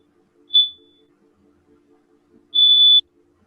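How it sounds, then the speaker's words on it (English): Two shrill electronic alarm beeps from a fire alarm, a short chirp followed by a longer sustained tone, loud over a faint low hum. "It's a fire alarm?"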